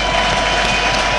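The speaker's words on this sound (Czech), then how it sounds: "Zaplněný dolíček nyní tleská." A packed crowd at Dolíček stadium applauds as the 1982/83 champions walk onto the pitch, with dense, loud, continuous clapping and no voices.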